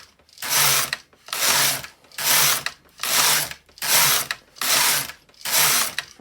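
An LK150 knitting machine carriage is pushed back and forth across the needle bed, seven even rasping, ratcheting sweeps with brief pauses between strokes, close and steady in rhythm.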